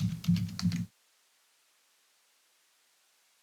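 Fast typing on a computer keyboard produces a quick burst of close, crisp key clicks for under a second, followed by near silence.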